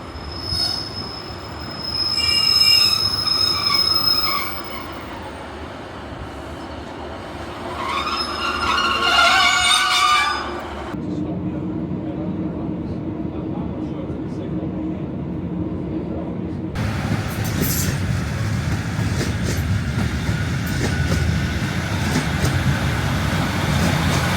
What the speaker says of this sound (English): we shall be leaving Hale on the next train, the 12:53 Northern service to Manchester Piccadilly